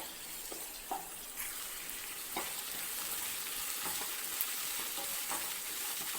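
Onions sautéing in a pan over a medium flame for chilli beef, a steady, moderate sizzle with occasional soft stirring taps, close and continuous with no talking.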